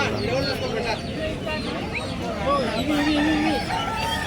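An Aseel rooster crowing amid a busy poultry market in Mahbubnagar, with clucking fowl and people talking in the background.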